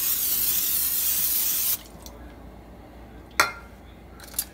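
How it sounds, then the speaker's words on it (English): A short hiss of Pam cooking spray is sprayed into the bottom of a pan before browning meat, a close steady spray lasting under two seconds, followed by quiet and a couple of light metallic clinks. "I'm going to spray a little bit of Pam in the bottom of the pan just to keep the meat from sticking."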